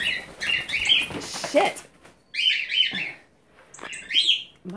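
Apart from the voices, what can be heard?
cockatiels and wild cardinal flapping and chirping in cage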